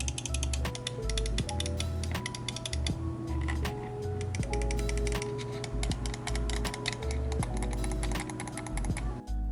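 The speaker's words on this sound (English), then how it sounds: "this mouse comes with Razer Optical Switches. Here is a sound test for all of you weirdos that enjoy that." A Razer Viper V2 Pro gaming mouse with optical switches clicks in rapid, crisp bursts, close and fairly loud, with a few brief pauses between runs of clicking.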